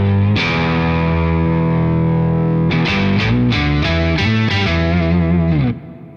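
Electric guitar runs through a BOSS OC-5 octave pedal with the direct level turned all the way up: one long sustained chord, then a quick run of six or seven picked notes ringing out before stopping abruptly.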